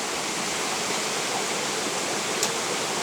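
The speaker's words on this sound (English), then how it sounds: "Here's another one of the babbling brooks that are up here." Babbling brook on the Superior Hiking Trail in Minnesota, a steady close rush of flowing water filling the whole clip with a constant, even hiss and no voices.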